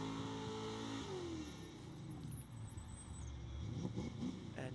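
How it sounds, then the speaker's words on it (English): An LS-powered Nissan 350Z drift car warms up its rear tyres at a drift championship event, its V8 engine droning and revving steadily. Tyre squeal and crowd ambience run underneath a continuous loud roar. "warming up his tyres on the back end of that LS-powered Nissan 350Z"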